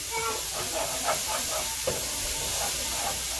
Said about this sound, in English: I'm going to add a teaspoon of minced garlic. Okay, stir that around.